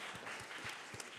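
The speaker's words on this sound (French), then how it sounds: "Vous pouvez applaudir, hein, les femmes, quand même." Audience clapping at a business conference event in France, a faint, steady patter of many hands heard from a distance, continuous through the moment.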